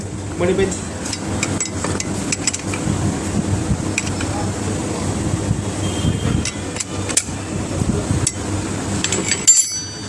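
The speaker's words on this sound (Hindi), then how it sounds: "पहले इसको हम टाइट कर लेंगे दोनों साइड को, बोल्ट को" Stud bolts being tightened on the self-starter of a Mahindra tractor, heard as a steady run of close metallic taps, clinks and tool rattles over background noise, with a sharper knock near the end.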